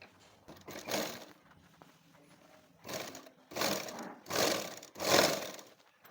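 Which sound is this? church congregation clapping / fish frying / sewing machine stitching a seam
sewing machine stitching a seam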